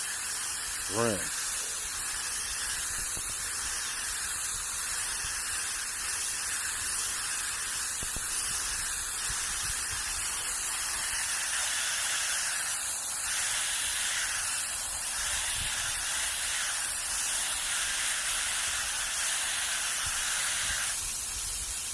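Water sprays hard onto a K&N air filter from a Dodge Charger during a rinse, making a loud, steady hiss close by that runs unbroken the whole time, with only slight shifts in strength.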